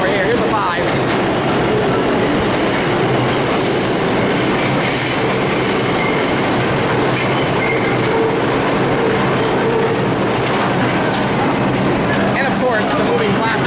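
A New York City subway 5 train runs through the Union Square station in a loud, continuous rumble with rattling wheels and faint squeal, and voices are heard beneath it.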